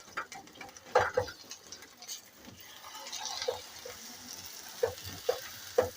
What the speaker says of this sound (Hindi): इस तरीके से इसको आप मिक्स करें और हल्के फ्लेम के ऊपर ही आपने ये काम करना है।